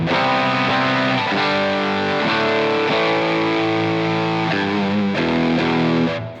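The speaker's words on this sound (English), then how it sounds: "you do get more of that sort of fuzz tone out of it" Thick, heavily distorted electric guitar chords through an EarthQuaker Devices Palisades drive pedal ring out one after another, fuzzy and saturated, played loud and alone.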